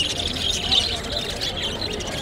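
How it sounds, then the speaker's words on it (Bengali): A flock of budgerigars chirps steadily at a bird market. The high twittering is close and continuous over a murmur of crowd voices. "এখানে বেশ কিছু মিউটেশনের বাজরিগার পাখি রয়েছে"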